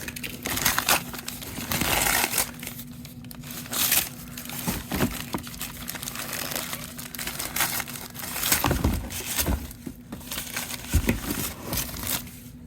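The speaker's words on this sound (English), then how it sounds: "I'm trying to like cut the tape without cutting the rifle here." Tape is cut away from the packaging around a Mauser FR7 rifle, giving close, irregular crinkling, crackling and tearing of plastic and tape in bursts over a low steady hum.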